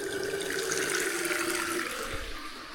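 Water gushes from an opened plumbing outlet after the water main is shut off, a steady loud rushing that slowly eases toward the end.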